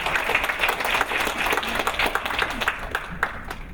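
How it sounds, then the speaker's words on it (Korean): An audience claps warmly after a student team's presentation at a university creative essay contest, with steady, moderately loud applause filling the hall for a few seconds. "힘찬 박수를 부탁드립니다."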